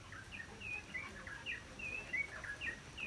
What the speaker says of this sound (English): and then you hear like the birds